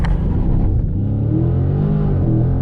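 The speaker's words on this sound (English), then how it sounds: "You let go of the paddle and we launch." A Dodge Challenger R/T Scat Pack 1320 launches at a drag strip, its engine roaring loud and close as it revs up and pulls hard.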